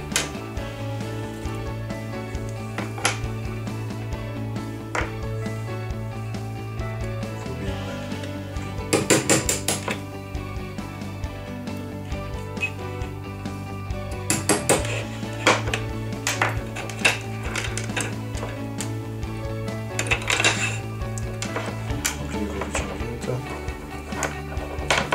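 Pins knocked out of a metal watch bracelet: scattered sharp metallic taps and clinks, in small clusters, over a continuous musical background.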